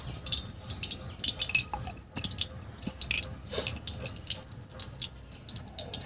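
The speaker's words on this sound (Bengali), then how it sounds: "এবার এর মধ্যে আর একটু তেল দিয়ে দিচ্ছি" More oil goes into a cooking pan for soybean khichuri, giving a soft trickling pour with scattered drips and light crackles, close and fairly quiet.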